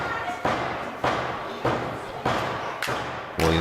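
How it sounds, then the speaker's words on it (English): A wrestler stamps his foot repeatedly on the ring mat during a W3L wrestling match, a series of about six loud, evenly spaced thuds, roughly one every half second, booming over crowd noise. "Williams banging his foot off the mat"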